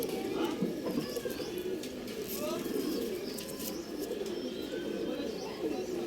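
Tara pigeons, a pair kept for sale in Bangalore, coo softly and repeatedly with scattered chirps, fairly faint against a steady background hum and occasional low voices.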